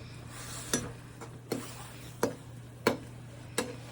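Onion and green chilli frying in oil are stirred in a pan, with five sharp spoon scrapes spaced through a quiet, steady sizzle.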